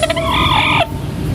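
A single hen or rooster gives a drawn-out squawking call on a farm, close and clear, followed by faint background clucks.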